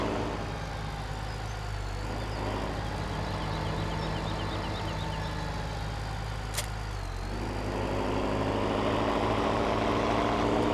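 Idling engine of an 86 series four-wheel-drive tractor in Farming Simulator 17, a steady low rumble that drones on evenly without revving and stays fairly quiet throughout.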